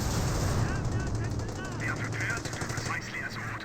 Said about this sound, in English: 30 cal gets some hits there onto the Volksgrenadier, but does not get any suppression off